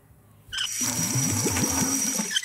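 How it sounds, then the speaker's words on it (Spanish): Water pouring from a terrace tap into a watering can in the Bluey video game, a steady gushing fill lasting about two seconds after a short electronic chime, with a bright game tone running over it. "Vamos a llenar la regadera con agüita."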